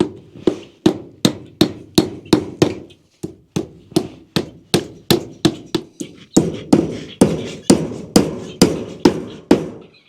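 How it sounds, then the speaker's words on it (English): A hammer drives nails into the bottom of a chicken enclosure gate, delivering a steady run of about two dozen sharp, close wooden thunks with brief pauses between bursts and no talking. "Right now, I'm gonna try to nail the bottom."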